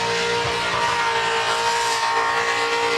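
A burnout competition car in the open class finals holds its engine at very high RPM, a loud steady screaming whine with strong harmonics that barely wavers over the whole stretch.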